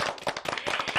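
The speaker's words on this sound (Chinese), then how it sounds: "掌声欢迎石老师。" A studio audience at a children's TV challenge show claps briefly to welcome a teacher, a short burst of scattered hand claps up close.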